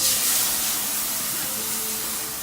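Water hits a hot cast iron skillet as it is rinsed, producing a loud, steady steam hiss and spray that slowly eases over a couple of seconds.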